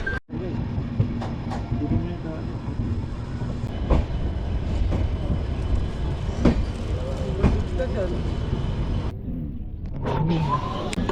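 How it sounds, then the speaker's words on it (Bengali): Train at a railway platform with steady low rumble and a few rail clanks and knocks throughout, station noise continuing after a brief drop near the end, voices faintly mixed in. "3 নম্বর প্ল্যাটফর্মে এসে দাঁড়িয়েছে ট্রেন।"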